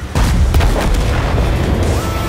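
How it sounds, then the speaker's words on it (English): A tank cannon fires in the video game World of Tanks, a single loud, close boom with a sharp onset that rolls into a long rumbling tail and low engine drone, with no talk. "Firing through the bushes is tricky, resulting in missed shots"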